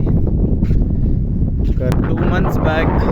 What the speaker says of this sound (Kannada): ಬೆಳಗ್ಗೆನೆ ಏನು ಗಾಳಿ ಬೀಸ್ತಿದೆ ಗುರು ಇಲ್ಲಿ.